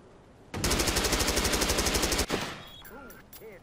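A long, rapid burst of machine gun fire in the video game Watch Dogs, loud and evenly spaced for under two seconds, followed by quieter background game sounds and short chirping tones.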